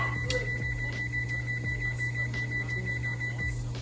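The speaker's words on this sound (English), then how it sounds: "So now we will set our timer here" A kitchen timer being set gives off a quick series of short, evenly spaced electronic beeps or chirps, faint against a steady low hum.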